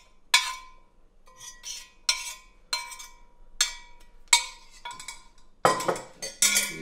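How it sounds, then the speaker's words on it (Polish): Metal utensil clinks and scrapes against a pot as pesto pasta is stirred, a run of sharp clanks repeating roughly every half second, close and clear with no voices. "Mieszamy najlepiej w garnku, żeby nic innego nie brudzić"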